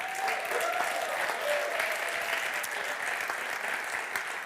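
Steady applause from an audience at a European Mobility Week award ceremony for Eurocities, a continuous dense wash of clapping heard from a distance at low volume.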